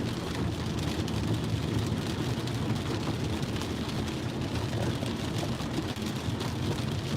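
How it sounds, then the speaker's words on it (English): Heavy, steady rain pours during a wind storm in Scottsdale, Arizona, a dense, continuous roar of drops with low rumbling underneath, loud and unbroken throughout with no talking. "Rain picking up slightly towards the storm."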